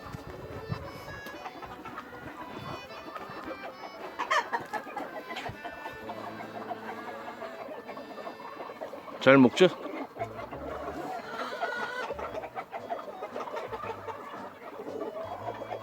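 Chickens, hens and a rooster, cluck close by in short bursts while eating cut grass as someone talks over them; one sharp louder squawk stands out partway through.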